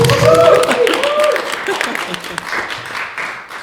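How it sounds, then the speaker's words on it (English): A horror-festival audience claps before a film Q&A, a dense, loud wash of applause that slowly thins out, with a voice speaking briefly early on and cheers rising over the clapping. "clap please"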